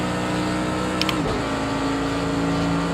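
A race car in the Project Cars 2 racing game at full throttle, a loud sustained engine drone that drops briefly with a quick gear shift around the middle, then climbs and holds again with no speech.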